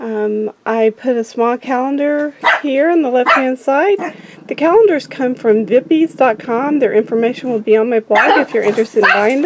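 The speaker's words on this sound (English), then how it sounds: "I apologize for the barking dogs." Someone speaks steadily while dogs bark and yip excitedly in the background, with a burst of higher yapping near the end.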